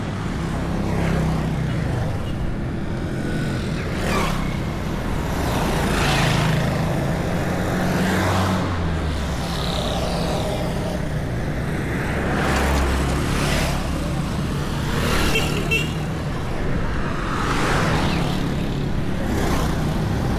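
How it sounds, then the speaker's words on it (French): Heavy road traffic on a street in Lomé, Togo, a constant roadside rumble of engines with vehicles repeatedly passing close by in swells, while a person talks now and then. "Il y a beaucoup de circulation."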